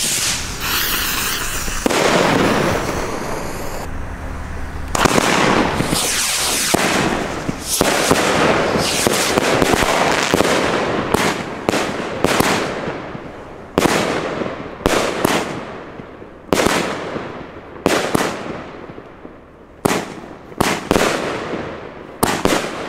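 A Funke Kamuro Variation 30 mm firework battery fires outdoors. Loud, close bursts come in a rapid, uneven series, each with a crackling tail that fades away, and the volley continues for over twenty seconds.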